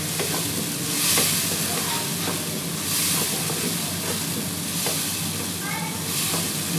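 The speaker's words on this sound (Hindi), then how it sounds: "इसको भून लेना है अच्छी तरीके से ताकि जो मसाला हमारा अच्छी तरीके से भून जाए।" Masala sizzles as it fries in ghee in a pan for mutton kaleji, a loud continuous frying hiss broken by regular spatula scrapes, with no voices over it.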